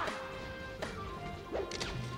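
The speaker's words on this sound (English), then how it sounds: "And Loz's F-smashes are getting better as well" Quick whooshing swipes and sharp impact smashes from forward smash attacks in Super Smash Bros. Melee at a tournament, arriving in a short burst of several hits over a steady background of game sound.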